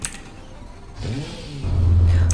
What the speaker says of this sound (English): let's turn this car on and listen to this startup